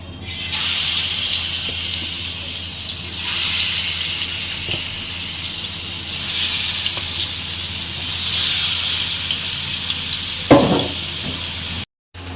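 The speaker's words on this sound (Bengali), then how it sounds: "মাছ ভাজাটা দিয়ে দিই আগে" Fish frying in a pan in a home kitchen gives a steady, loud hiss and sizzle that runs almost unbroken for about twelve seconds, with a brief clatter near the end and no talking.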